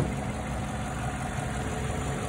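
A 2015 Chevy Silverado pickup engine idles steadily with a low, even rumble and no knocking or squeaking, holding a constant level throughout with no one speaking.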